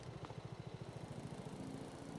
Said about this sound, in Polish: kądziu na motorku sobie właśnie przejeżdżam